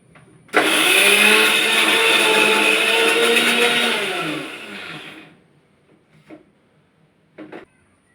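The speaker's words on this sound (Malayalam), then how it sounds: "ഇതൊന്ന് കറക്കി എടുക്കാം മിക്സിയിൽ." A kitchen mixer grinder whirs loudly as it grinds turmeric powder, small garlic pieces and ginger. It runs for about five seconds, then winds down, followed by a few faint clicks.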